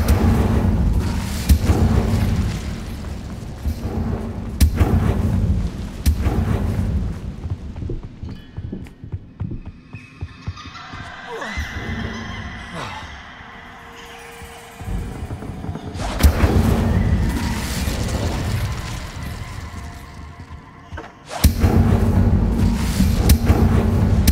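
Confringo explosive spells blast repeatedly in Hogwarts Legacy, dense booming bursts in loud stretches separated by a quieter lull, with battle noise throughout.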